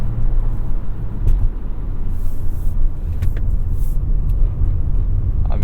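A 2021 Toyota Venza hybrid with all-wheel drive accelerating in sport mode on wet roads, heard from inside as a loud, steady low engine and road rumble with tyre hiss throughout.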